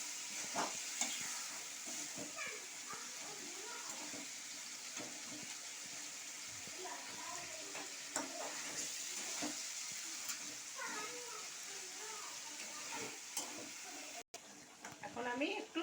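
Pieces of magur catfish stirred in a pan with spiced masala, soft scraping and a steady sizzle running under someone speaking throughout.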